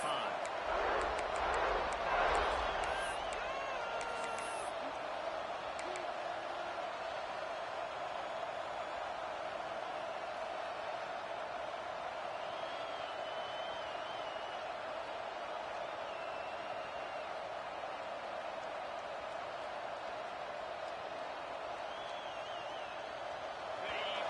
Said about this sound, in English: They challenge this crowd to bring the energy. I'd say they're doing that.